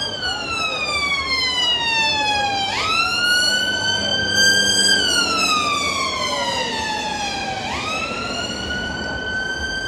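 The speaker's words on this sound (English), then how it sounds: "Oh. Sirens. That's an ambulance." An ambulance siren wails loudly on a Blackpool street at night, its rising and falling tone sweeping through repeated cycles and dominating the scene throughout.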